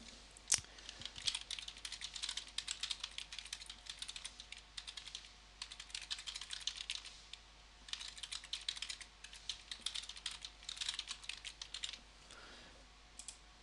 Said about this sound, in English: Alright, we'll type in a question.